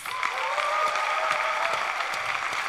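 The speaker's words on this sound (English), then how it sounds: "I would also want you to give a warm round of applause to all of our storytellers" A warm round of applause from a live storytelling audience in Nairobi, many hands clapping in a steady, full wash throughout.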